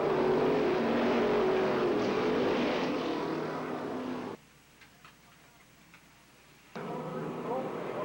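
Race cars circling a short track during a 2004 event, a loud steady engine drone heard from a distance that drops out briefly to quiet and then returns.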